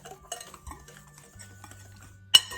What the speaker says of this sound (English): It'll also mix around that cake mix